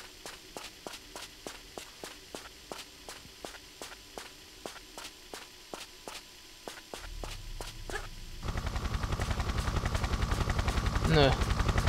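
A helicopter in the video game Tomb Raider III. A rhythmic series of regular thuds runs throughout, then a loud, dense rotor roar rises and stays steady toward the end.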